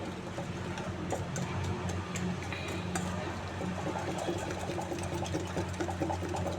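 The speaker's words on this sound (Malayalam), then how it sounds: "ഇങ്ങനെ ഹാർഡായിട്ട് നന്നായി ബീറ്റ് ചെയ്യണം കേട്ടോ" Cookie batter is beaten hard by hand with a whisk in a bowl, making a fast, continuous, even rattle close up that runs without a break under a low background hum.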